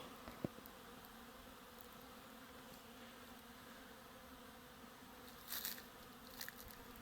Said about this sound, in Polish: Pszczoła się pięknie oblatuje.